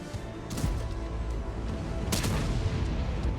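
Tank shell explosions boom in the World of Tanks video game, two sharp blasts landing over a dense rumble of battle noise, loud and close.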